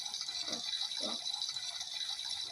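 Shower water running in the Roblox Brookhaven game, a steady hissing spray with a couple of soft splashes, continuous and fairly close, with no voices.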